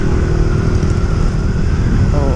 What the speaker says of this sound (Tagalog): Napan-start ko pa yung motor ko, kickstart.